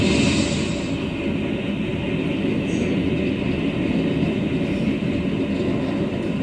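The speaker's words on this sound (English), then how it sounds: "a heavy manifest charges past in a flurry of smoke and steam." A heavy steam-hauled freight train charges past near Rock River, a dense, steady roar of exhaust and rolling wagons filling the whole stretch at close range with no letup.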